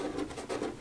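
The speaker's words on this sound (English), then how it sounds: "you can hear when I run my fingers over it." Fingertips drag across rough, gritty sticker residue, a soft brief scratchy rasp in a few quick strokes, close and quiet.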